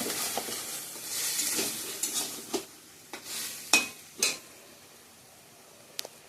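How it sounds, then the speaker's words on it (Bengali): Taro leaf greens are stir-fried in a pan, giving a soft sizzle broken by several sharp spatula scrapes and knocks against the pan, each one fairly close. "এখন ভালো করে একটু কষিয়ে নিব।"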